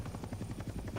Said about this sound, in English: shoot down the enemy chopper